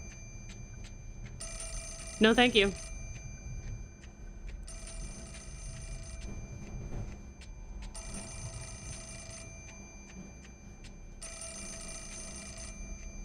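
Telephone bell ringing in the Fatal Frame: Mask of the Lunar Eclipse horror game, four long bursts of rapid ringing with pauses between, moderately loud over a low ambient drone, with a short spoken reply during the first ring.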